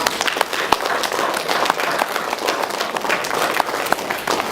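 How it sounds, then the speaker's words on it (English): An audience at a pharmaceutical programming conference in India applauds, a moderate wash of many hands with distinct individual claps popping out, continuous and fairly close for a few seconds. "let's give a big round of applause to our Fuse office"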